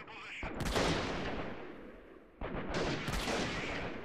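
Gunfire in a video game firefight, two loud rolling bursts of shots with a brief lull between them, close and reverberant.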